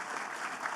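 A brief burst of audience applause at a startup stage event, a steady, even crackle of many clapping hands, moderately loud.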